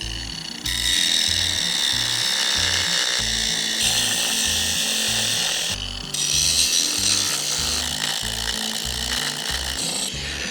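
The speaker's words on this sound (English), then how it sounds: "I'm kind of trying a few things out and seeing what this grinder can do. I am also cutting through some old concrete" Angle grinder cutting through old concrete and stone, a loud, close, sustained grinding whine with a rhythmic low pulsing, briefly easing off twice before biting in again.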